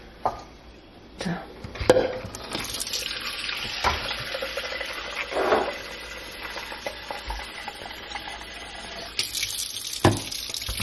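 Water running from a kitchen tap while bread dough is prepared, a steady hiss of flowing water with occasional clatters and knocks of kitchen handling around it.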